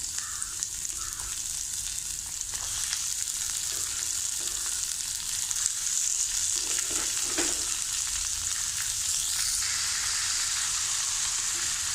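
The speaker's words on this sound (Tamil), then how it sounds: "அப்புறமா நறுக்கி வச்சுருக்க வெங்காயத்தையும் பீன்ஸையும் அதில் போடணும்" Chopped onions and beans sizzle and crackle steadily in hot oil, with occasional stirring scrapes over a constant frying hiss.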